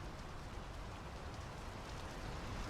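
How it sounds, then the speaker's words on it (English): Steady rain falls in the Draugen video game, a dense, even hiss of drops on surfaces that holds at a constant low level throughout, with no voices and no thunder. "The rain's picking up."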